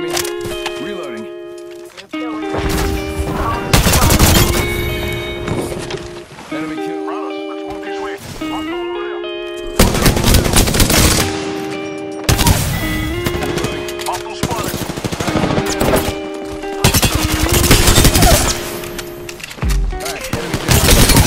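Video game gunfire rings out in dense, loud bursts and rapid volleys over a continuous bed of music and game sound.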